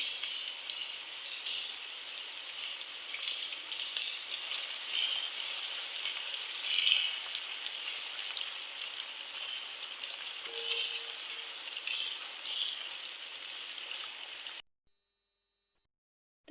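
Finely chopped onions and cumin seeds fry gently in hot oil over low heat, a steady close sizzle like light rain that holds for about fourteen seconds, then cuts to silence.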